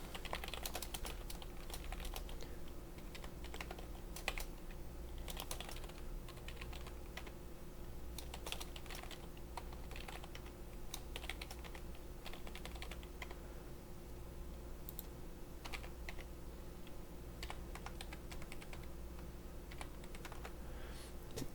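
Steady typing on a computer keyboard while broker details are entered into a DocuSign form, with quick irregular clicks of keystrokes running continuously and fairly close over a low constant hum, and no talking.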